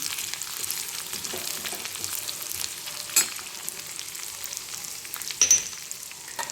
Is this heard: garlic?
yes